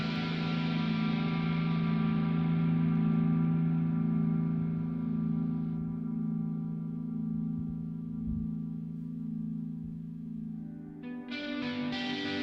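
Electric guitar on the neck single-coil pickup through ambient reverb, chorus and a sustain compressor, a long sustained chord ringing and slowly decaying before a fresh strum near the end.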